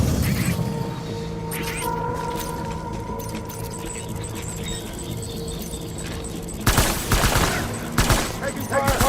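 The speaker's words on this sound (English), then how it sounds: "Taking fire" Rapid bursts of Death Stranding gunfire erupt late, a couple of loud, crackling volleys over a steady droning hum and faint mechanical rattles.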